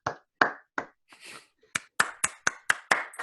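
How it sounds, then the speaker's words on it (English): A few people clap on a sports talk show set, a sparse handful of sharp, close hand claps with short gaps that grow quicker and more regular toward the end. "let's give a round of applause"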